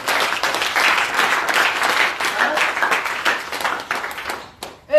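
A church congregation applauds loudly and steadily, dense clapping with some crowd voices mixed in, fading near the end.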